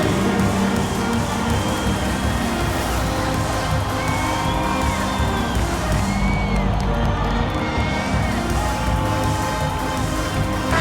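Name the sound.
crowd applause and cheering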